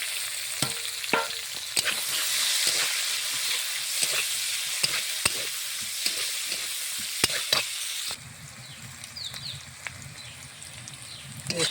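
Whole cumin, slit chilies, sliced onion and crushed garlic stir-frying in a pan, a constant bright sizzle punctuated by sharp spatula clacks and scrapes, close, with the sizzle dropping lower near the end.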